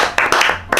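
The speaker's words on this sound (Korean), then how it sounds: "박수." A few sharp hand claps in a small indoor room during a Korean talk show segment, several separate bursts close to the mic over less than a second.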